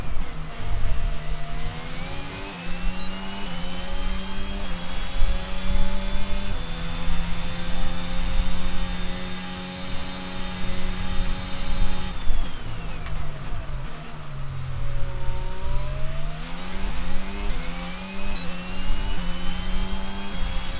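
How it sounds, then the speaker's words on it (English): Formula 1 car engines from the F1 22 racing game at the Austrian Grand Prix, a loud continuous high-pitched whine rising and falling through gear shifts, with a brief dip near the middle before climbing again, no talking. "They actually sound like proper F1 engines."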